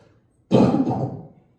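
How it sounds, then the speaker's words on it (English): A single loud, close cough hits a microphone after a moment of near silence, a harsh burst that trails off over about a second. "I coughed towards the mic."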